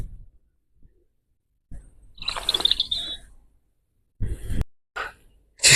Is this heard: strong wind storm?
no